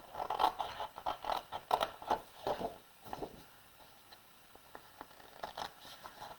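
Small scissors snip through card stock in a run of quiet, crisp cuts, with rhythmic clipping that slows and then resumes toward the end.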